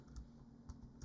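A few quick keystrokes on a computer keyboard entering printer code for a Prusa Mini, soft and close, with faint clicks spaced over a brief moment.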